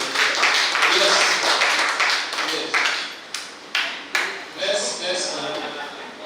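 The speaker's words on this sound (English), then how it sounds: "I think we need to give her a round of applause" Workshop attendees applaud a presenter in a scattered round of clapping that thins into a few separate claps toward the end, with voices talking in the room.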